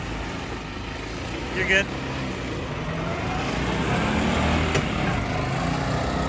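A Lorinser 500SL mini go-kart running with a steady, fairly loud engine drone that builds slightly over a few seconds, with a short voice heard near the start.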